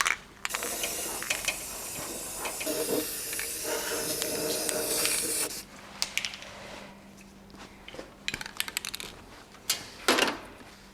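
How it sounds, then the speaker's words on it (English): Spray paint hisses in a steady, loud burst onto a welded truck part for an International and Tahoe build, running about five seconds before stopping, followed by scattered clicks and handling knocks. "I'm going to squirt some paint on it"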